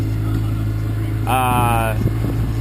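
A sailboat's engine drones steadily while motor sailing at about 5.5 knots, a constant low hum that holds throughout, with a brief higher tonal whine partway through and wind and water noise around it.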